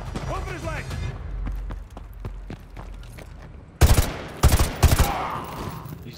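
Gunshots in the shooter Call of Duty: Modern Warfare 2 Remastered, a quick cluster of loud, sharp reports in a chase through a favela, following tense shouted voices and footsteps.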